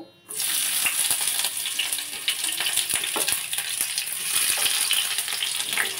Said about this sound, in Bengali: তো চলো পেঁয়াজটা একটু ভাজা হয়ে যাক